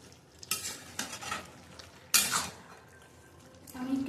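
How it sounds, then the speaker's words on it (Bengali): A spoon stirs mixed vegetable curry in a pot, giving a few distinct scraping strokes against the metal over a soft simmering hiss, close and fairly loud. "আমি একটু নেড়ে দিচ্ছি, এখনো হয়নি সবজিটা"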